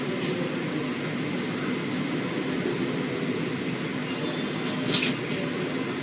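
A KA Majapahit economy-class passenger train runs steadily on its rails, heard from inside as a continuous loud rumble with wheel and carriage noise and a brief high squeal near the end.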